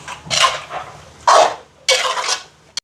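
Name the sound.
stirring salt into chicken curry in a pot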